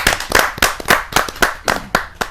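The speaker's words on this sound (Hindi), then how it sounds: "जोरदार ताली के साथ हम उनका स्वागत।" At a Hindi poetry gathering filmed for television, an audience welcomes a film director with loud, close clapping in strong rhythmic bursts of many hands.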